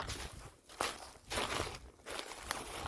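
Hiking footsteps on the Appalachian Trail, a steady walking rhythm of crunching steps on the forest path, close and moderately loud, with no talking.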